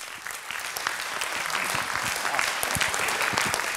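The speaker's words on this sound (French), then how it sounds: "On vous applaudit." Audience at the 20th SYNERPA congress applauding, a full, steady round of clapping from a large crowd with crisp individual claps standing out, growing slightly and staying strong throughout.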